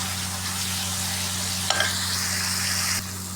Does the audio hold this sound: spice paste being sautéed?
yes